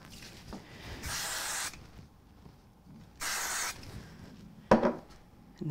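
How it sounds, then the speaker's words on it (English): Spray glue is applied to a card in two separate bursts of hissing aerosol, each about half a second to a second long, close and fairly soft, followed by a sharp tap or handling noise. "I'm going to put them on with some spray glue"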